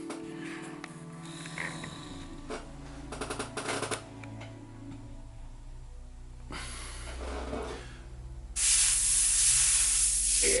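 An airbrush sprays violet paint onto a miniature in bursts of airy hiss, with handling clicks between them and a loud, sustained spray toward the end.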